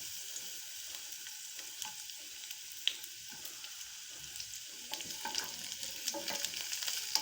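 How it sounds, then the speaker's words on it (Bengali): Chopped onions go into a pan with already browned minced garlic and ginger for a dosa chutney, a soft continuous sizzle with light scraping stirs and small crackles, growing livelier toward the end. "এবার আমি পেঁয়াজ কুচিগুলো দিয়ে দেবো।"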